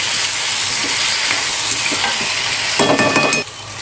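Ghevda flat beans fry in hot oil with a steady, close, dense sizzle, and a brief burst of stirring and scraping comes near the end.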